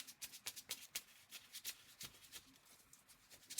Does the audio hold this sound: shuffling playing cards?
yes